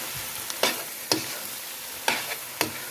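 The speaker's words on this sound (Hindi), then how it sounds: "ड्राई मिल्क पाउडर, वो भी मैं इसमें डाल दूँगी और अच्छी तरह इसे मिक्स कर दूँगी" A spoon scrapes through thick pumpkin halwa as dry milk powder is mixed in, making four or five sharp, close strokes against the pan over a soft, constant sizzle.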